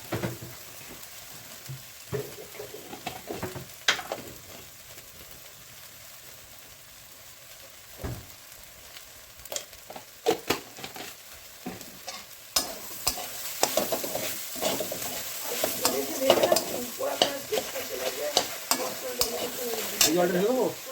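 Coriander and mustard seeds fry for sambar in a pot, crackling and sizzling with scattered pops and stirring scrapes that grow busier and louder toward the end.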